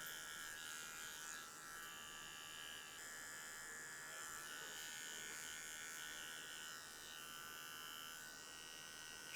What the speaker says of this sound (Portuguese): a gente já está passando a máquina aqui na lateral